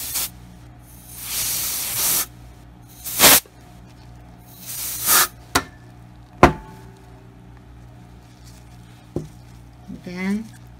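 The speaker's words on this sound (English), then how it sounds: "I'm going to take my canned air and just blow it" Canned air sprayed in short bursts onto alcohol ink and blending solution on a glass ornament, several sharp hissing blasts separated by quiet gaps, close, with faint knocks and brief voice sounds between bursts.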